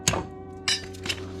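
A chisel is tapped against the strut of an Audi A6 during a coilover install, giving three sharp metallic taps with brief ringing, close and fairly quiet.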